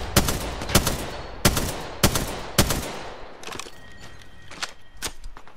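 Gunfire in the video game Apex Legends: a rapid sequence of sharp, loud shots at roughly half-second intervals, then a few sparser, fainter bursts trailing off.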